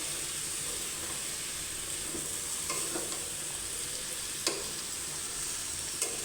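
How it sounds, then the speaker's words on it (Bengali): Spinach greens fry in a pan and are stirred, giving a continuous close sizzle with soft scraping strokes and a few sharp clicks of a utensil against the pan. "সবগুলো শাক দিয়ে দেবো। একটু নাড়াচাড়া করে দেবো।"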